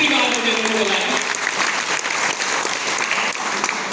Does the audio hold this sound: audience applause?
yes